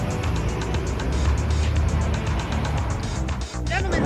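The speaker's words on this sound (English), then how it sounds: "Very busy, heavy traffic flow." Dense, heavy traffic flowing along Yonge Street in downtown Richmond Hill, with a constant loud roar of cars and engines passing close by and a brief dip near the end.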